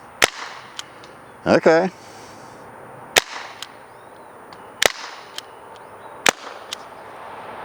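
A Umarex T4E TR50 50-caliber less-lethal revolver fires four sharp, loud cracks spaced roughly one and a half seconds apart, with a brief spoken word between the first two shots.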